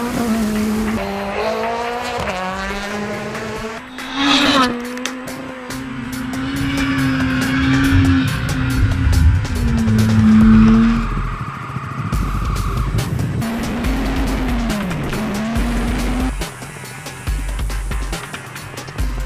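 Rally cars at a South African rally, including custom-built 2-litre four-wheel-drive S2000 machines, roar close by with rising revs, sharp gear shifts and tire squeal, and engine pitch swoops as cars pass and skid, with no voices.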